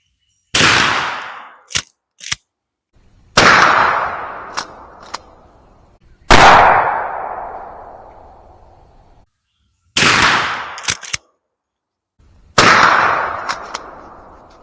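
Five loud shotgun blasts from Brenneke Magnum .410 bore rifled slugs in 3-inch shells, each sharp report followed by a long decaying echo outdoors, evenly spaced with pauses and small clicks between shots.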